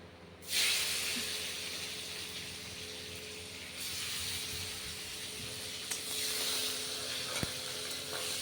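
Spices hit with water in a hot pan in a home kitchen, giving a sudden loud hiss that settles into a steady sizzle, with a fresh surge of spitting midway.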